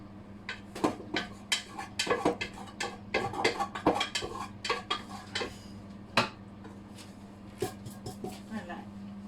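Dry rice grains pour and patter into a metal paella pan, with a rapid scatter of clinks and taps close by over a steady low hum, some bursts louder than others.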